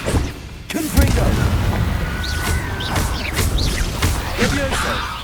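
Confringo blasting curse explosions in the Hogwarts Legacy video game, a heavy boom followed by rumbling blasts, whooshing spell effects and crackling debris, loud and close, with game sounds layered throughout.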